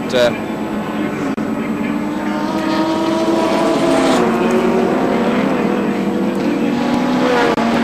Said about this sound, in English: As Cullen comes into the pits